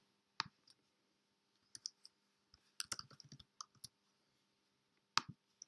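A computer mouse clicks while someone works in a spreadsheet: sparse, quiet, sharp clicks, some single and some in quick clusters, spread across near-silence with no talking.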